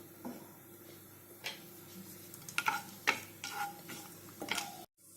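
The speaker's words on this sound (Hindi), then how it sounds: "अब हम उसमें मसाला डालेंगे, खड़ा मसाला।" Whole spices frying in hot oil in a pan for mushroom masala: a soft sizzle under scattered clinks and scrapes of stirring, with a few sharper taps before it cuts out abruptly.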